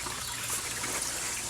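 Continuous rushing water pours into a tub while a 1999 Mercury 200 EFI outboard motor is flushed, a close, even splashing hiss throughout.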